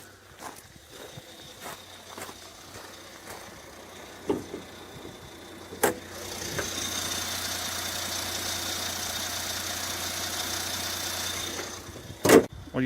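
Car engine idling with a low steady hum, a few thuds and knocks early on, then a louder, fuller engine rumble that holds steady.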